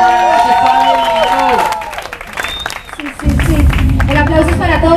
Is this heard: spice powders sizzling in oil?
no